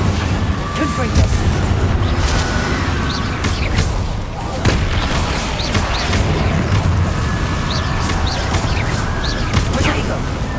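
Confringo explosion spells in the Hogwarts Legacy video game, with dense, continuous blasts and booming impacts over ten seconds, loud and close, mixed with game sound and shouted voices.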